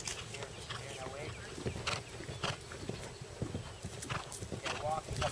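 A horse walking at a farm clinic, its hoof steps falling in soft irregular thuds, faint and somewhat distant, with people talking over them.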